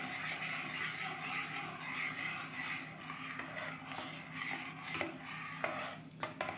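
Utensil scraping and clinking inside a bowl while gelatin is stirred into a caramel-candy dessert mixture, a steady close rhythm of rubbing strokes with occasional sharper taps against the bowl's side.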